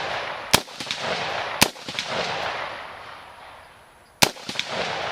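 Three sharp, loud .223 rifle shots at an outdoor range, spaced irregularly with fading echoes, the steel target ringing faintly after each hit over steady wind noise.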